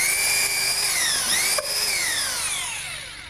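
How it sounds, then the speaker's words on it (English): A power drill whines steadily at close range, its pitch dipping and rising as the bit bores through a timber joist, with a brief jolt midway. "When routing cable through timber joists, always remember to drill through the same direction the cable will be running."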